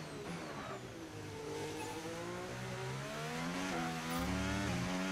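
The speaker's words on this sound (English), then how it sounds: "Listen to the engine." A Formula 1 race car engine in the F1 25 video game revs and shifts through rising and falling pitch sweeps, loud and continuous for the whole stretch, with faint tire noise and no talk.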